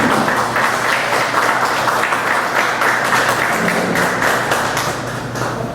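A university audience at a civic discussion event gives strong applause, a dense wash of many hands clapping steadily and fading slightly toward the end.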